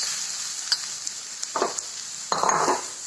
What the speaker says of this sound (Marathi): कांदे भाजायला जवळजवळ पंधरा ते वीस मिनिट लागते